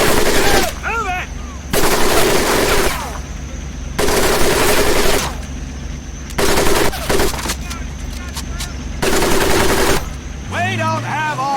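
Long bursts of machine gun fire in the video game Medal of Honor Pacific Assault, loud and close, repeating in several sustained volleys with short pauses and shouting between them.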